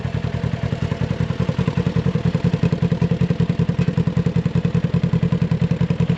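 A 2024 Polaris RZR XP 1000 with its stock exhaust idles close by, a steady low rapid engine pulse with even, uninterrupted thumping throughout.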